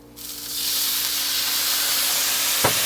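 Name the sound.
apple cider vinegar sizzling as the pan is deglazed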